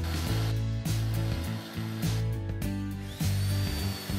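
A power drill boring holes into a wall to mount a mini split mounting plate, a loud whirring motor hum with short stops and restarts, close and steady without speech.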